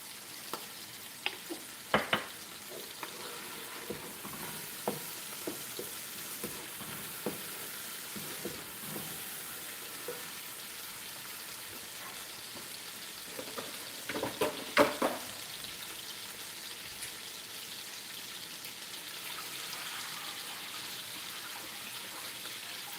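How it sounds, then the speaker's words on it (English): Nigerian coconut rice with crayfish is stirred in a pot: soft, irregular scraping strokes over a steady, faint sizzle, with a brief burst of busier stirring near the middle. "And then we keep stirring."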